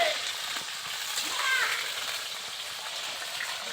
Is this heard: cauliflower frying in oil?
yes